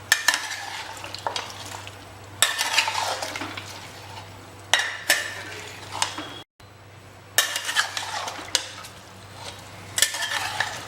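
A spoon scrapes and stirs through mutton curry sizzling in a pan in repeated bursts, with metallic clinks against the cookware and brief pauses between strokes.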